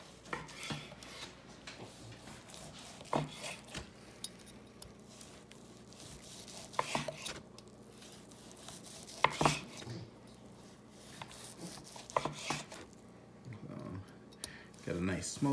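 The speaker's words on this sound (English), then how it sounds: "Now I'm just gonna go ahead and start slicing into this." Knife slicing through smoked beef brisket on a board, a steady series of close, crisp cutting strokes with occasional sharper knocks, a voice speaking between them.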